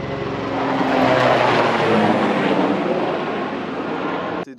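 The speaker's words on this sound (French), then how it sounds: "il y a un avion qui passe" A plane passes directly overhead outdoors, a loud broadband engine roar that swells and then holds steady before cutting off abruptly at the end, with no voices.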